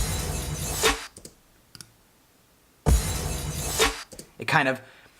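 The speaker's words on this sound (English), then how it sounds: "It crashes and then it kind of does this like sucking sound that really pulls together and builds tension." A crashing, shattering impact swells and cuts off, then a second crash hits followed by a rising, sucking reversed-style swoosh that builds tension, produced as a Foley effect in a hybrid trap production.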